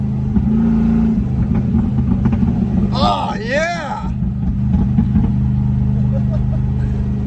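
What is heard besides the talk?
1989 Range Rover Classic 3.9 engine exhaust revving to 4000 RPM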